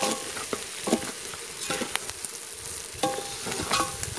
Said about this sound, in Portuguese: Depois de acrescentar o arroz, nós vamos torrar um pouquinho, né? Fritar o arroz um pouquinho.